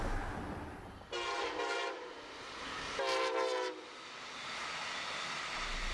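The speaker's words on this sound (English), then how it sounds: "Brightline is an intercity passenger train that travels between Miami and West Palm Beach." Brightline intercity passenger train horn in Train Sim World 2, two loud sustained blasts over a steady rolling rumble, the first lasting about a second and a half and the second shorter, with no talking.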